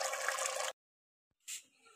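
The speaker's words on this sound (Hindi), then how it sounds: "और थोड़ा सा पानी डाल के मैं इसको रख दूँगी" Water poured into a pot of cooking white chickpea curry: a steady, rushing pour lasting under a second, then silence, then a brief splash and soft trickle.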